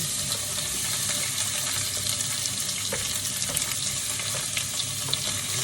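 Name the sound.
meat frying with garlic in a pan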